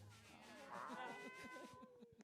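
Human voices imitating a cat, several short meows in quick succession, made by team members for a game jam game, fairly close and clear, with a faint background hum.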